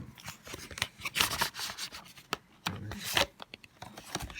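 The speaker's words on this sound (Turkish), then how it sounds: "Evet kutumuzu açıyoruz şuradan." The cardboard box of a 10000mAh Xiaomi 18W fast-charging powerbank is opened up close, with a quiet run of scraping, rubbing and tearing noises and soft papery handling sounds.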